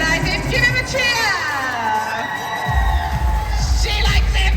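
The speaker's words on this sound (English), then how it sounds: "Give him a cheer!" A fantasy convention crowd cheers and whoops for a cosplayer, loud shouts and yells filling the hall with a few voices rising above the din.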